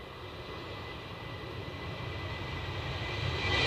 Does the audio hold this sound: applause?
no